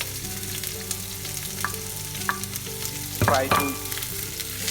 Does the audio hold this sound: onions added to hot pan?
yes